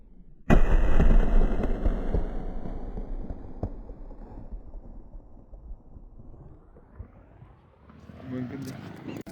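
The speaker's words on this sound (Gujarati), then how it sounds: "સરહદ સળગાવી જો મેં ઘા કર્યો છે તો જો બમ ફોડે છું હું" A firecracker bomb goes off outdoors with a single sharp, loud bang, followed by a long rumbling decay and faint crackle, with background noise and people nearby afterward.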